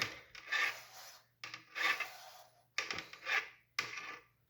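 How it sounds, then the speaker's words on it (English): A tachometer cable slides out of its housing on a Honda GL1100 motorcycle in several short rasping pulls, each a dry scraping rub with brief pauses between, close and fairly quiet. "So I'll pull the cable out."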